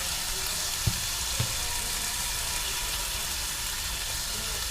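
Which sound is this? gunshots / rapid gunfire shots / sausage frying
sausage frying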